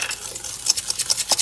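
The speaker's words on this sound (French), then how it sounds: "je commence par 2 œufs que je mélange avec 50 g de sucre" Two eggs whisked with 50 g of sugar in a bowl for a galette des rois frangipane, a quick rhythmic run of close clinking strokes.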